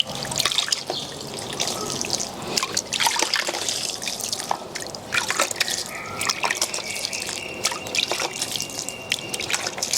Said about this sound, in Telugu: ఇది నీళ్ళు పోసేస్తాం పైన